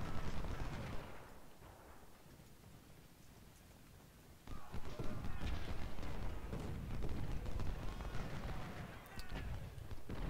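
Artillery and gunfire in a Civil War strategy video game, with heavy booms and crackling shots rolling in bursts, louder in the second half, with faint voices underneath.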